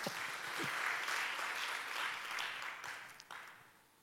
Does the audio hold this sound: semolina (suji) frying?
no